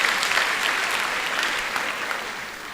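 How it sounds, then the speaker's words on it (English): Audience applause at a graduation ceremony: dense, steady clapping from a large crowd, loud and continuous throughout before easing slightly toward the end. "Let's give him a big round of applause."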